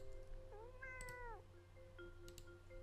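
A kitten gives a rising-and-falling meow, thin and fairly clear over a low steady background hum, then a fainter second call follows.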